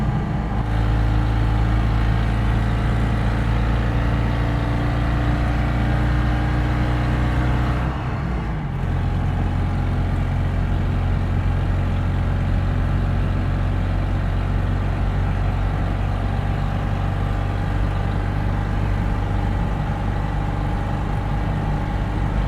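A Citroën 2CV drives steadily along a road, its small engine giving a constant loud drone with a strong low hum and road noise throughout, and a brief dip near the middle before the same even cruising sound resumes.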